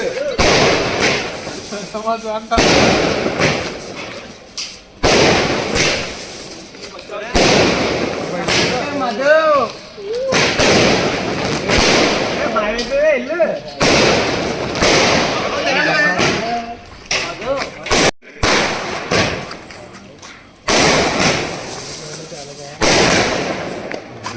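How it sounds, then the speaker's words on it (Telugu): Firecrackers crackle and bang in rapid, loud bursts close by, repeating in clusters, while people shout and talk over the noise. "ఇక్కడే పేలిపోతున్నాయి రా మధు."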